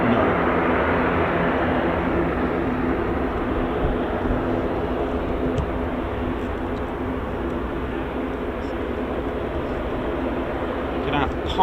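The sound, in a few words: heavy military aircraft arriving, C-17 and P-8 Poseidon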